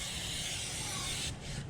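A steady, close hiss of an aerosol chain lube sprayed along the length of a motorcycle chain, running continuously and cutting off just before the end.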